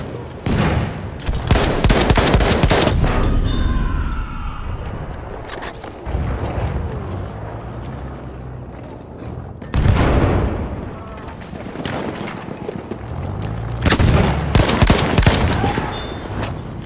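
Machine guns fire in a video game battle in Rush Ballroom Blitz, a loud, dense run of bursts and booming blasts that surges and fades over several seconds, with shouted voices in between.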